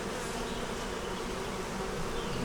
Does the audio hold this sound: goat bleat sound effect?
no